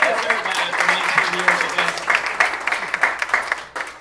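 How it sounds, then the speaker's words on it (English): A live audience gives a round of applause during a speech at a public speaking event, a dense burst of clapping that fades toward the end, with a faint voice underneath. "I do give them a round of applause."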